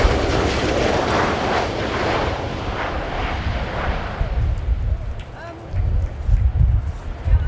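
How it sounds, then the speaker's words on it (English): A United States Air Force CV-22B Osprey tiltrotor makes its final flying pass at the RIAT air display, a loud broad roar of engines and rotors that swells and slowly fades, with a public-address voice over it. "Final pass before departure for the Osprey."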